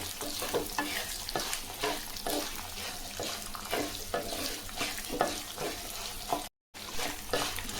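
Mint leaves sauté in oil for mint pickle, with a continuous moderate sizzle broken by repeated stirring scrapes and a brief dropout near the end, no voices.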